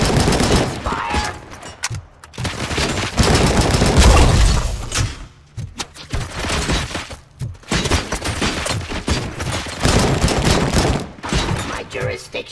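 Gunfire from RoboCop: Rogue City on Xbox, dense bursts of shots and heavy thuds running through nearly the whole stretch, loud and close, with brief pauses and some talk mixed in.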